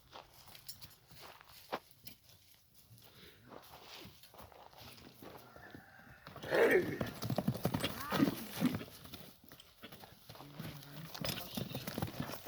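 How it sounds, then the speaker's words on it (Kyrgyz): A small Kyrgyz horse of the type bred for ulak games walks with rhythmic clip-clop hoofbeats, quieter at first and then louder and closer after the midpoint, with a possible whinny and someone speaking over it. "Чакан ат экен бул."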